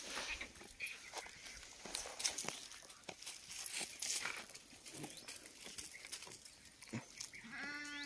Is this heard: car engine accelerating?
no